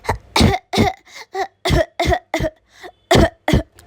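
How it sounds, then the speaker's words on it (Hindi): Loud, harsh coughing close by, a rapid series of about a dozen coughs in quick bursts with brief gaps between them. "तुझे क्या हुआ, इतनी जोरों से खांसी आ रही है?"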